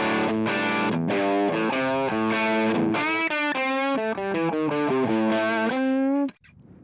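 An electric guitar played through a Line 6 Helix tweed amp model with no pedals. A driven, slightly distorted melodic lead phrase of bending notes runs loud and clear, then cuts off abruptly near the end.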